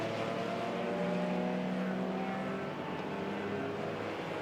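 Classic sports cars at Brands Hatch, including BMWs, Lotus Elises and Toyota Celicas, drone around the circuit in a continuous, fairly distant engine roar with a rising tonal whine as one car pulls through.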